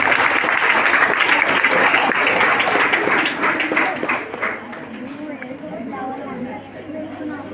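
Classroom applause from children at a village library opening, a dense burst of clapping filling the first few seconds, then thinning and fading into scattered claps and murmuring voices.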